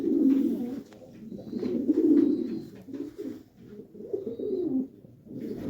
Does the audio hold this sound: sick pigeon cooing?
yes